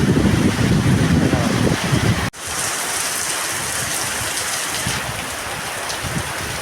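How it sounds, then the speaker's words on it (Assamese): Sudden heavy rain pours steadily and loudly onto surfaces nearby, a dense continuous roar with a brief dip partway through, with no voices. "হঠাৎ এই বৰষুণটো আহি কিনে পেলাই দিছে"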